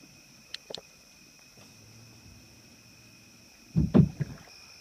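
Paddle strokes from a Field & Stream Scout canoe on a calm bayou, soft knocks and splashes against the hull, then a louder burst of swishing water, set against a faint insect-like hum.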